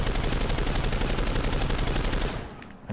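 Automatic weapon in Planetside 2 firing in a continuous rapid burst, loud and close, with rounds blending into a steady roar that cuts off near the end.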